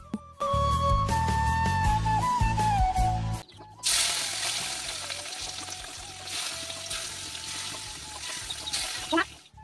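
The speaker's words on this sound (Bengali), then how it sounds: "আর একদিকে কড়াইও বসিয়ে দিয়েছি মাছটা এখন ভাজা করে নেব" A fish frying in oil in a kadai (wok) on a home stove gives a loud, steady, close sizzle for the second half, after a short opening of voice or music and clattering.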